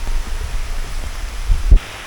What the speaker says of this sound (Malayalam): നല്ല കിടിലം മഴ പെയ്യുന്നുണ്ട്.